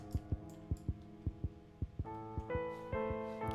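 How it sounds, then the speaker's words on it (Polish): A steady heartbeat thumps in the horror video game Granny, with evenly spaced low beats repeating close and clear. Partway through, a sustained tonal game drone swells in beneath the pulse. "Tak, jest nadal bicie serca."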